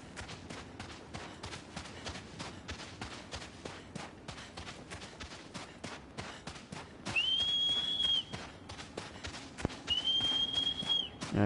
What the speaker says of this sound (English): I figured maybe if I whistle a few times, it'll do the trick.